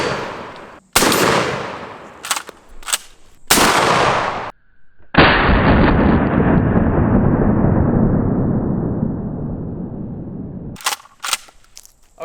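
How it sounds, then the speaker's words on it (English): Kel-Tec KSG shotgun loaded with slugs and buckshot fires several loud, sharp blasts outdoors, including one long reverberating shot that rolls away across open ground. "we are loading the KSG up right now with slugs and buckshot"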